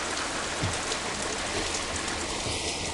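Heavy rain pouring down in a steady, dense hiss that fills the whole stretch without a break, loud and close with no voices.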